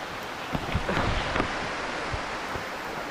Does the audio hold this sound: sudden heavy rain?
yes